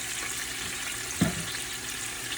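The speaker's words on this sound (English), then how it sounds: "Put a tiny bit of water in there." A small splash of water poured into a hot pan holding roasted piri piri chicken gives a brief bubbling sizzle partway through, set against a steady loud frying hiss.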